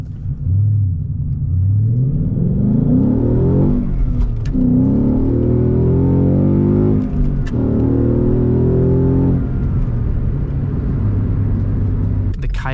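A 2016 Ford Mustang GT with its Coyote V8 driving on the road, a loud close engine rumble rising and falling in pitch through several revving pulls and gear changes.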